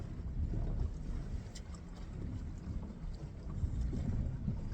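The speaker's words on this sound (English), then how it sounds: "this east wind is way bigger than they said it was going to be today" A strong east wind buffets a fishing boat out on the water, with a steady, rough roar of wind noise on the microphone and no talking.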